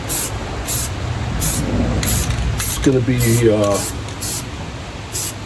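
Rapid bursts of aerosol spray paint on a 1966 Chevrolet C10 truck, short evenly spaced hisses repeating about twice a second, close and loud, with someone talking underneath midway.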